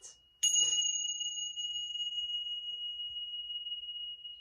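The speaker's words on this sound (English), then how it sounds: "let's ring the bell here" A single bell struck to open a tarot reading rings out clear and close, its pure tone sustaining and slowly fading for several seconds after a brief bit of speech.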